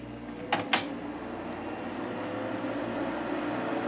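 A 1980s Kenmore 5000 BTU window air conditioner with a Matsushita rotary compressor switches on with a couple of clicks, then settles into a steady, moderate hum and fan whoosh.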